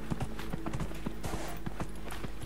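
Horse hooves clip-clopping in the video game Dragon Age Inquisition: a steady, fairly fast run of close, sharp hoof knocks continues throughout over a low background hum.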